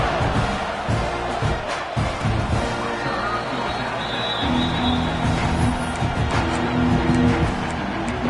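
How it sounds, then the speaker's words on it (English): Stadium crowd at a Texas versus Texas A&M college football game roaring continuously in a big, dense wash of cheering and shouts, steady and loud throughout with no clear pauses. "This crowd bringing the energy and noise early"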